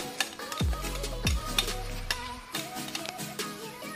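Spoon stirring an almond milk mixture in a bowl for homemade ice cream, giving light scraping and clinking strokes with a couple of low thuds, close and fairly quiet.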